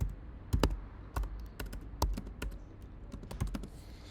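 Irregular bursts of close, crisp keystrokes on a computer keyboard while code is typed, with short pauses between quick runs of taps and no voices.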